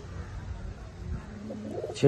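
Market-bought pigeons from Kolkata in a Chinsurah collection give soft, low cooing over a faint background, with a brief louder burst of sound at the very end.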